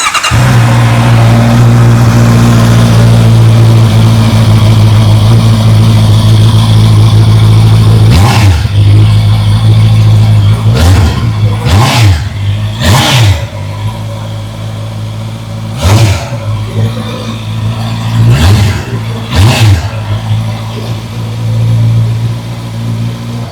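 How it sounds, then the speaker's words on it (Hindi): A 2025 Honda CB650R E-Clutch, a 650cc neo sports cafe motorcycle, idles with a steady low exhaust burble, then takes a series of sharp throttle blips that rise and fall quickly, about seven revs spaced across the second half, loud and close. "आइए अभी सुन लेते हैं इस बाइक की एग्जॉस्ट नोट"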